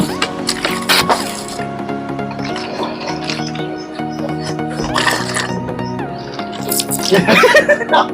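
Water spat from the mouth into a container during a mouth-filling water challenge comes in wet splashing bursts and drips, with people talking and laughing throughout.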